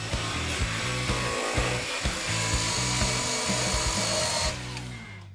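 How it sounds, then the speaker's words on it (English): A bristle disc on a power tool polishes bare floor metal during a classic Camaro build, giving a steady, loud grinding whir with pulsing low rumble that runs continuously before easing off near the end. "Then we'll switch over to the bristle disc to do a little bit of polishing."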